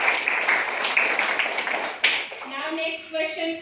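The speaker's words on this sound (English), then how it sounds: "Clap for Vedika." Scattered clapping from a classroom audience for a student contestant at a harvest-festival quiz, with voices talking over it before the clapping thins out and a few tonal voices take over near the end.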